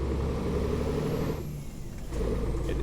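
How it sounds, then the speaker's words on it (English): A heavy truck's engine brake in a truck simulator game driving through Greece, a loud continuous low rumble that drops and eases briefly midway before the engine roar swells back up. "It's using the engine brake to downshift faster, like the real life truck"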